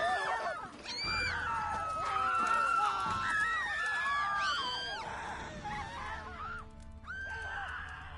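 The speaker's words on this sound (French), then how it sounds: "Pourquoi vous criez, les gens?" Shrill screams and shrieks from several people overlap in a continuous noisy burst, some cries rising and falling in pitch, loud and close with a brief lull near the end.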